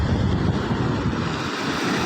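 Sea waves break on a shore in a steady, loud rushing wash, with wind buffeting the microphone and no voices.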